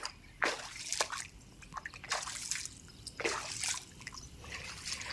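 Rainwater trickles and splashes close by off a flooded house rooftop, with several distinct drips and splatters standing out over a soft, continuous flow.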